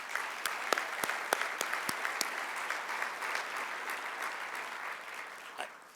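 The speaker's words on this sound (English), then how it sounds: "So let's give them a round of applause." An audience at a hall of fame awards ceremony applauds. A soft, steady wash of clapping carries a few sharper individual claps and runs evenly for several seconds before easing off.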